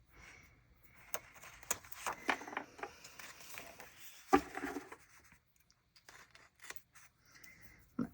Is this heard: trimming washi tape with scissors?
yes